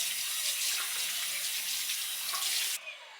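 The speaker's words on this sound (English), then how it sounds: "And then I just wash it off." Water runs steadily from a sink tap while a face is washed, splashing close by and fairly loud, then the flow cuts off abruptly near the end.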